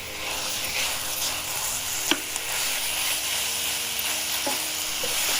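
Marinated minced chicken sizzles steadily in a pan for chicken keema, a continuous broadband frying hiss with a few sharp utensil clicks from stirring, close and alone with no talk.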